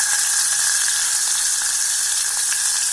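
Onion hits hot oil already seasoned with mustard seeds and urad dal in a pressure cooker, giving a loud, steady sizzle with no pauses and no voices.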